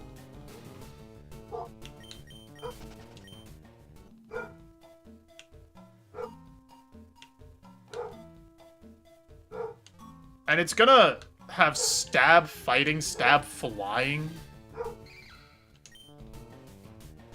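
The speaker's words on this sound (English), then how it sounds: "you can hear him barking from downstairs" Banjo the dog barks from downstairs, a few muffled yaps rising as a burst of loud, clustered barks midway through, heard beneath ongoing speech and game music.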